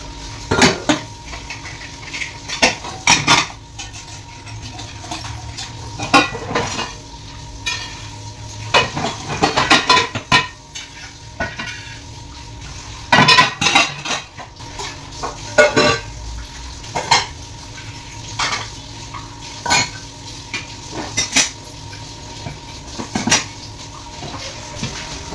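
Dishes, pots and cutlery clatter and clink in repeated bursts as a kitchen counter is cleared, with metal utensils knocking and scraping close by and no talk.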